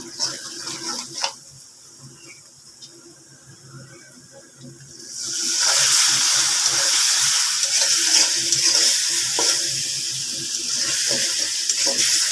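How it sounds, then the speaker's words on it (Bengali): Water poured into a hot cooking pot of onions fried with ginger-garlic paste and salt sets off a loud, sustained hiss and sizzle that swells and continues steadily after a quieter stretch of faint kitchen sounds. "আমি এখানে একটু পানি দিয়ে দেবো"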